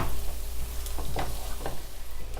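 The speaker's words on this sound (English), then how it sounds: "I'm going to go ahead and add in my butter, and I'm going to wait for the butter to cook down with the veggies" Butter melting with vegetables in a pan for chicken pot pie, a close, steady frying sizzle with soft stirring scrapes and crackles throughout.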